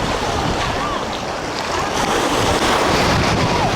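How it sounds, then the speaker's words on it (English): Ocean waves roll in at Kovalam Beach near Chennai, a loud continuous surf wash with wind buffeting the microphone throughout. "Beautiful clear waters, and the waves are coming, and I'm enjoying it a lot."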